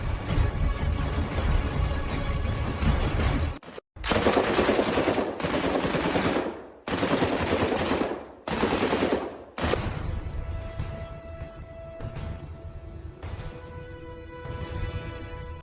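Machine-gun fire from a military scene in an AI-generated feature film comes in loud rattling bursts split by short silences, then settles into steadier, quieter continuous shooting.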